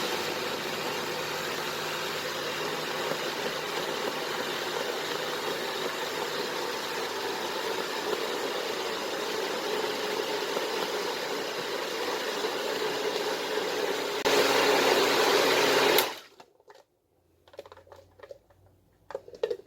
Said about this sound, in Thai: เดี๋ยวเราก็ปั่นทุกสิ่งทุกอย่างนะคะรวมกัน